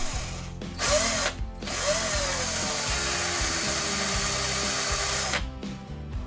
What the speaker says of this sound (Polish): Dla pewności wprowadzę wiertło z drugiej strony i rozwiercę kamień